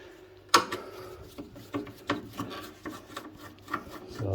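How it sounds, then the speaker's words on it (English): Screws being turned out of an amplifier casing, giving close scraping, grinding squeaks in short irregular bursts after a sharp opening clack, quiet and without talk. "there's a few screws up here, so we'll take them off while we're at it"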